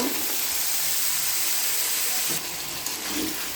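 Potatoes go into a pan of fried fish, setting off a steady, close hissing sizzle, with a brief shift and faint clatter about two-thirds of the way through.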